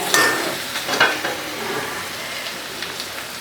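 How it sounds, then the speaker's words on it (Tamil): Masala sizzling as it is sautéed and stirred in a pan for pepper chicken gravy, a steady close frying hiss broken by scraping stir strokes, with no talking. "மசாலாலாம் போட்டுங்க 1 நிமிஷம் வதக்கி விட்டுட்டேன்."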